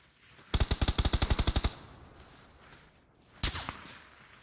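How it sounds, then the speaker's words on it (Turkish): Gunfire in the video game PUBG: a rapid automatic burst of about a dozen evenly spaced shots, a pause with low background noise, then a shorter second burst, close and loud. "Aa, bizlere mermi atılıyor koç yiğitler."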